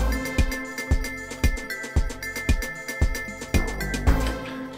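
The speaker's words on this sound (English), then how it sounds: "Here's the sound of the whole track with those three kits together." A full track of three layered drum kits pounds out a steady, loud beat with evenly spaced kick hits under dense cymbal and snare texture, thickening toward the close.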